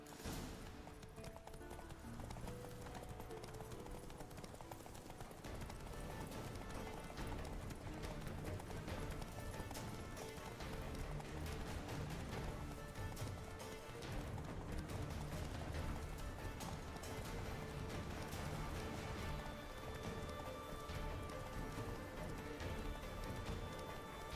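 A horse gallops in The Witcher 3 video game, its rapid hoofbeats pounding steadily and loudly for the whole stretch, layered over a dense game soundscape.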